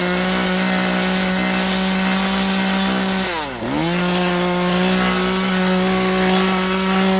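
A chainsaw engine runs steadily and loudly, briefly dipping in pitch mid-way before revving back up to a sustained drone.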